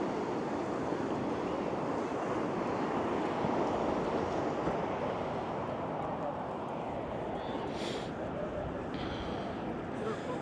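Sea waves on a British beach, a dense continuous wash of surf that stays loud and even throughout, with faint hiss and a few brief higher sounds near the end.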